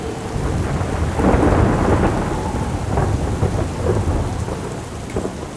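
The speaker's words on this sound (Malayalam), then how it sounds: "പെട്ടെന്ന് നല്ല കാറ്റും മഴയും തുടങ്ങി." A thunderstorm with wind and heavy rain as a story sound effect: loud rumbling thunder over a dense, continuous downpour, with no voices.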